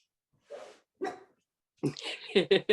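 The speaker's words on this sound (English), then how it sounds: "My dog started barking the minute you said that." A dog barks during a casual interview, with a couple of separate yelps early on, then a quick run of sharp barks toward the end, fairly close and loud.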